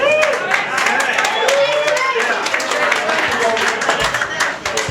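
A comedy show audience on the Scarlet Lady applauds the comedians, with dense clapping and cheering filling the room, while a voice talks over the sustained applause.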